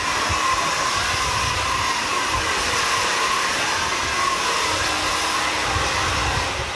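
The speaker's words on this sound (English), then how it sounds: "I'm gonna blow the hair off" A hair dryer blows steadily and loudly, clearing cut hair off after a haircut, a constant close whooshing roar that runs unbroken throughout with no talking.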